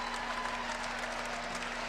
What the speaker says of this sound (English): they've been clapping all match trying to keep the Dons in it